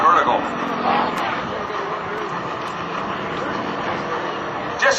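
A Pitts Model 12 aerobatic biplane roars steadily at an airshow during rolling manoeuvres, engine drone sustained and moderately distant with a faint crowd murmur underneath.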